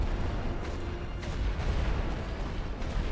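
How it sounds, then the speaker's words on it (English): Low, rumbling artillery barrage in the World War I strategy game The Great War: Western Front, steady muffled booms and thuds blending into a continuous distant roar. "The artillery is doing some good damage here."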